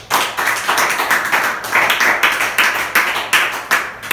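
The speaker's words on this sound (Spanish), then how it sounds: "Vamos a aplaudirlo." A church congregation claps together during a Spanish-language sermon, a steady run of loud, close hand claps that continues for the whole stretch with no talk over it.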